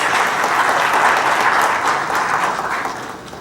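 Audience applause at a lecture on the Indian Knowledge System, a steady, dense clapping from a large crowd that holds loud for about three seconds and eases slightly at the end.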